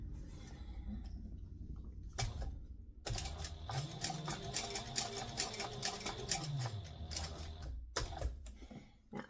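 Sewing machine stitching a faux leather end onto a webbing strap: a steady mechanical chatter of rapid stitching in several runs, broken by brief pauses and the stop-start rhythm of the needle, close and moderately quiet.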